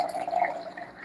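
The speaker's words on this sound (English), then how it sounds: "add some of the RO water from the barrel" Reverse-osmosis water poured from a barrel into a container, a steady, close liquid splash with light dripping and trickling, slightly uneven, with no talking.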